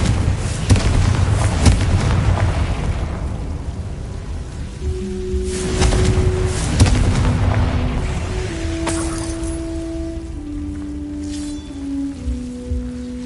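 Confringo blast spells explode in Hogwarts Legacy gameplay as a series of loud, booming bursts and crackles over a dense, rumbling background, with sustained musical tones rising beneath them.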